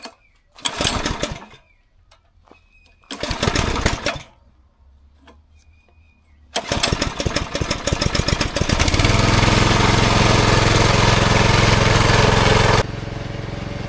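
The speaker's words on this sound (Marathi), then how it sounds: "एका ऑटो रिक्षाचं इंजिन त्या टाईपची मशीन आहे" An auto-rickshaw-type engine on a heavy-duty mango orchard sprayer, first pulled in two or three short bursts, then catching and running in a loud, steady, close-up drone that eases slightly at the end.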